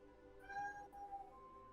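A cat meowing faintly in the background, a drawn-out tonal mew over a steady low hum.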